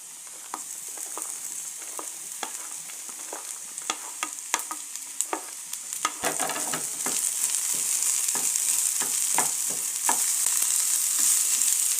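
Okra sizzling and frying with softened onions in a pan for a vedakka thoran, a steady crackling hiss with repeated sharp stirring scrapes that grows louder and denser partway through.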